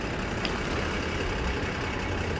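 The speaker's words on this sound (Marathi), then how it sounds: "माझी आवडती गाडी निघाली आहे साई तन्मय" Sai Tanmay, a bus bound for Madgaon, pulls away with a continuous low diesel engine drone and traffic rumble, heard nearby, plus a brief high tone early on.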